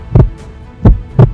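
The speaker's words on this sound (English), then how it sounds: "Behind every broadcast, there's a heartbeat" Three loud, close heartbeat thumps in a broadcast promo spaced irregularly, a double beat then a single, with a low hum beneath and no talking.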